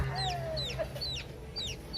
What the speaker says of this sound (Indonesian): Ayam jago warnanya warna merah sama hitam.